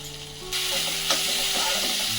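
Tomato masala with chili powder and coriander powder frying in a pan for an omelette curry, a sudden loud sizzle that holds steady, with a brief scrape of stirring and faint background tones.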